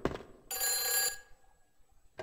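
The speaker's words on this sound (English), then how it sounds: "There's a phone ringing." An old-style telephone bell rings in the horror game Silent Hill Alchemilla: one bright, sustained ring of about half a second sits between quieter moments, with another ring starting at the very end, fairly clear and alone.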